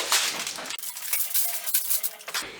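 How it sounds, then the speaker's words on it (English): A foil-covered pan of pork chops goes into an oven with a scrape and clatter of metal, rattling of the rack and crinkling foil, close and fairly quiet. "Now you guys, I'm going to place it in the oven."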